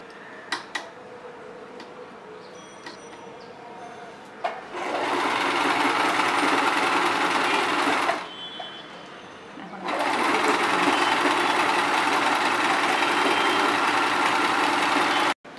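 Electric sewing machine running a picot edge stitch on a girl's dress, a fast whirring hum in two long bursts separated by a short pause, close and loud, after a few light ticks and clicks at the start.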